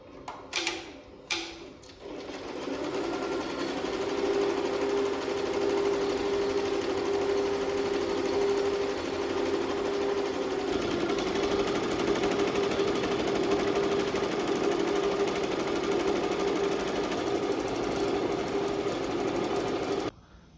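A Rainbow embroidery machine starts with a couple of sharp button clicks, then stitches with a steady, rapid mechanical chatter that carries on evenly for the rest of the stretch.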